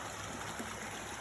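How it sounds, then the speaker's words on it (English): Orange-tinted stream water flowing down through woodland, a steady soft broadband rush with faint trickling, continuous and even at moderate distance, no voices. "Orange stream is coming down that you see on the left"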